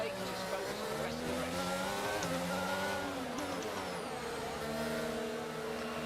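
An F1 race car in F1 22 enters the pit lane, its engine a steady droning whine with shifting pitch, close and continuous beneath a talking voice.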